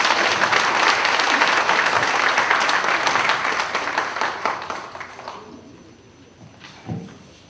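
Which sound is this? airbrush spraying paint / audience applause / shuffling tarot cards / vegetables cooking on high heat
audience applause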